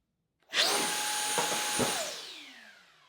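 A Ryobi 18V compact brushless handheld blower runs with its trigger held for about three seconds, a loud steady whine and rushing airflow that starts abruptly and then winds down in pitch as the motor spins to a stop.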